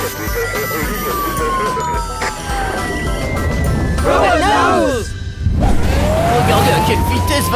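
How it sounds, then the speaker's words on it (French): A loud wailing ambulance siren rises and falls close by, with sweeping tones passing through amid traffic noise. "Si vous voyez une ambulance prioritaire avec une lumière bleue clignotante et une sirène"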